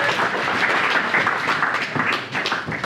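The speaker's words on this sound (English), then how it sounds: "Give him a round of applause" An audience at a business talk on company structure applauds a volunteer called up on stage, a dense burst of clapping that swells and then thins out.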